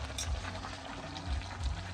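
Water sprinkled onto beef cooking over an open wood fire in the countryside hisses and sizzles, a busy crackling wash with soft bursts of steam over low background rumble, no talk.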